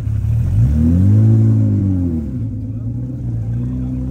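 A classic Jaguar Mark II from the Jaguar Drivers Club de France revs up nearby on a Tour Auto road rally, its engine rising in pitch, holding, then settling to a steady mid rumble, with a voice talking over it.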